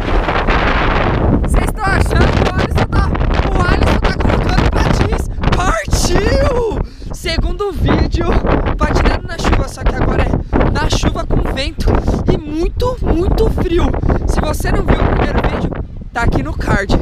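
Strong, gusty wind from a stormy, rainy, cold roller-skating session roars loudly and steadily into the microphone, with buffeting bursts throughout and people talking over it.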